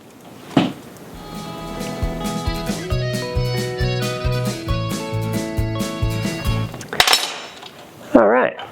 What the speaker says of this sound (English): you're just going to take a crescent wrench and you're going to spin that sucker down